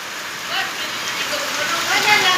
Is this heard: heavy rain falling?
yes